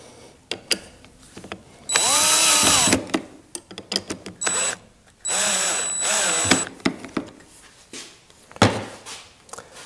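A power drill drives bolts back into an oak camping stool, in two sustained whirring bursts, one slowing down as it tightens and another steady, separated by short clicks and handling knocks, with a few lighter drill pulses between.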